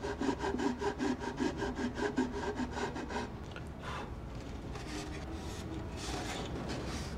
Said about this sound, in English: file two chamfers inside and outside, and then I make them round